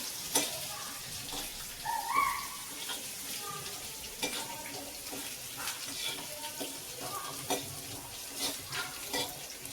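A mixture for eggplant bharit being sautéed in a pan, heard as a faint, steady sizzle with scattered soft scrapes and taps of the spoon, fairly quiet and close.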